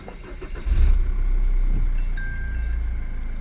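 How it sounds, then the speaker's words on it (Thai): A Mazda's engine starts by push button, cranking briefly and catching, settling straight into a steady idle hum. "เครื่องยนต์สตาร์ทติดทั้งสองดอกนะครับ"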